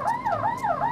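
An ambulance siren wailing close and loud, its pitch sweeping rapidly up and down in quick repeated cycles, with no one speaking.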